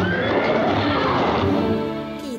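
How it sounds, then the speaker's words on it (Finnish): A horse neighs loudly and close in a long, wavering whinny that fills the whole clip, fading slightly at the end, with no talking. "Hevoseni liukastui mudassa."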